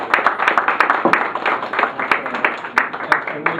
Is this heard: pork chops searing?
no